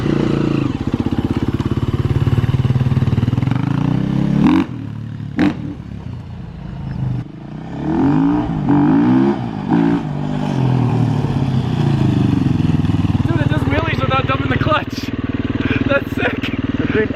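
A fuel-injected 350 trail motorcycle engine runs close and loud, with revs rising and falling throughout. Wind-buffeted voices speak over it.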